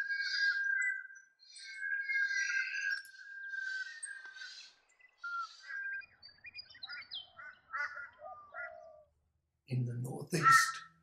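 Crows caw in New England habitat, giving harsh, repeated calls in short bursts, with a voice talking over them and a louder, rougher caw near the end.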